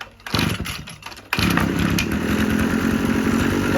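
A brush cutter with its carburetor in good condition fires up on the first pull: a brief rattling pull is heard, then the small two-stroke engine catches and runs loud and steady, close by.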